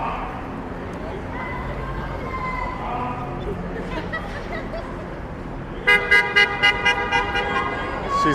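Car horns honk in short repeated toots on a busy downtown Toronto street on a World Series night, a loud burst over traffic and crowd noise.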